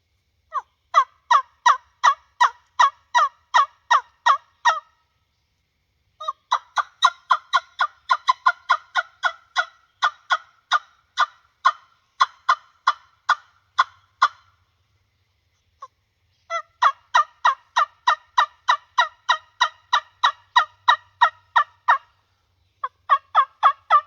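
Rapid series of sharp, high yelping turkey calls from a wingbone caller, repeated in quick rhythmic bursts with short pauses between runs, close and clear.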